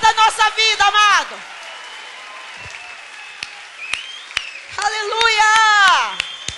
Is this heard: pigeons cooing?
no